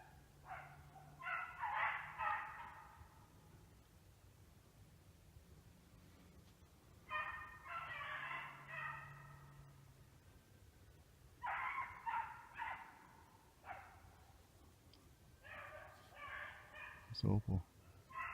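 A hunting dog baying while it chases a hare, several bursts of drawn-out howling some distance away with quiet gaps between them, and a faint low hum and a short thump near the end.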